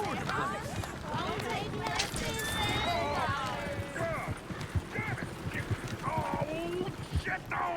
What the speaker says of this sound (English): Shit, the horses!